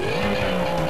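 A vehicle in Crash Bandicoot Warped drives with a steady, loud engine whine, its pitch slowly rising across a short stretch, with a faint squealing edge.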